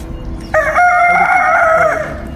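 A rooster crows once, loud and close, a long drawn-out call lasting well over a second against quiet background noise, with no talk over it.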